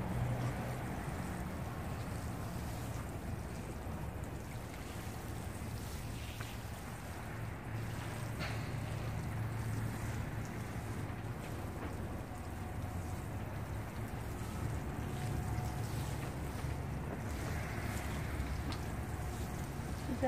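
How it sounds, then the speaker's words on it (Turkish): Seeds in a planter are watered, producing a continuous, even rush of spraying water that holds steady throughout at moderate loudness, with no talking. "Şimdi bunu sulayacağım."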